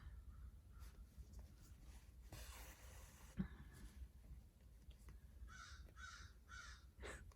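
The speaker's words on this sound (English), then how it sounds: "A lot of bird talk going on outside." Crows cawing outdoors, heard faintly through a window as several harsh caws in separate bursts near the end, with low room hum under them.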